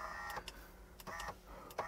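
Faint whirring of the passenger-side power window motor in a Ferrari, running while the glass stays still. Short motor bursts repeat in an uneven rhythm, quiet and close, with no talk.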